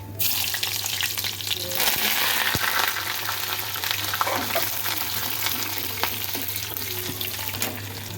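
Mustard seeds, onion and curry leaves fry in hot oil for a sambar tempering, giving a loud, steady, crackling sizzle that runs unbroken throughout with a few sharper pops.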